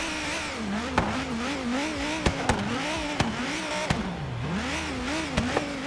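A GTA Spano supercar in Forza Horizon 3 revs and accelerates loudly and up close, its engine note rising and falling in sweeping pitch as it shifts, with sharp clicks and bursts of wheelspin mixed in.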